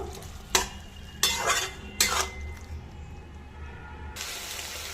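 A spice mixture with salt and sugar, poured in with rinse water, is stirred in a pan for masala okra, with three distinct scraping strokes of a utensil followed by softer sizzling and a light clatter at the end.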